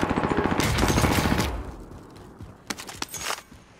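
A minigun in the Warzone shooter lets out one long, dense burst at close range, then cuts off. A few scattered sharp shots crackle afterward at lower volume.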